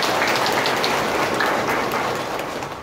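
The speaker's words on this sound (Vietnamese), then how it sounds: "Ba Làng chúng ta cảm ơn quý khách của một tràng vỗ tay thật lớn" Sustained applause from a congregation at a Catholic church mass celebrating a patron saint feast, a dense even patter of many clapping hands that holds steady and tapers slightly toward the end.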